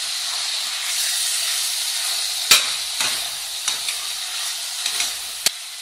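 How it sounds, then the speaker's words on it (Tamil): Tomatoes frying in a pan, a loud, steady hissing sizzle broken by a few sharp clicks and scrapes of the stirring spoon. "தக்காளி ஆட் பண்ணிக்கிடுவோம். நல்லா கிண்டி விட்டுக்கிடுவோம்."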